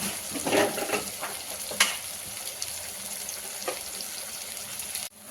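Tomato egg bhurji frying in a pan as a spoonful of turmeric is stirred through, a steady close sizzle broken by a few scraping stirs and one sharp clink partway.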